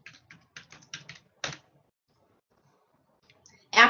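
Computer keyboard typing with several quick key clicks in a burst, a pause, then a louder clatter at the end as an email address is cut and pasted while logging into an online store; close and dry, no voices.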